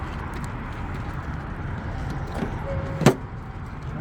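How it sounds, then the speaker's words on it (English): A truck hood slams shut once partway through a CDL pre-trip inspection, a sharp thud standing out from steady outdoor traffic rumble. "I'm going to close the hood."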